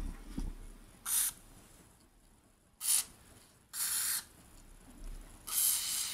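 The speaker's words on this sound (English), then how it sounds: "I'm just going to take my spray can, and anything that moves," Four short bursts of hissing aerosol lubricant spray on a vintage Singer 401a sewing machine, each about half a second, separated by quiet pauses, close to the microphone.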